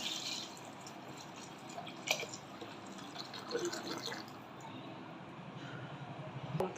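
Hot water is poured into a cooking pot while preparing a fish and vegetable curry, giving faint trickles, drips and small splashes that come in short bursts over a quiet kitchen background.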